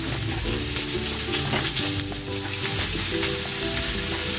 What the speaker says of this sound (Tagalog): Ilalagay ko na rin tong ground pork.